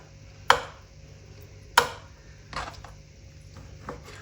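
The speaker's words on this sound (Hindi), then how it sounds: "तो अब बोटियाँ यहाँ पे हम ये देखें पीस बड़े बड़े करेंगे इस तरह" Meat is chopped into large pieces for a home-cooked curry, with two sharp, distinct knife strikes on a board followed by a few lighter taps, close and clear against a quiet kitchen.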